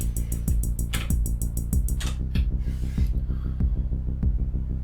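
A Digitakt kick drum pumping steadily at a regular tempo, deep and close, with a sidechain compressor ducking the surrounding sound on each hit and faint higher ticks riding along.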